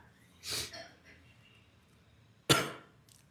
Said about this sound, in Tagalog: Sensya na po kayo, talagang yung ubo ko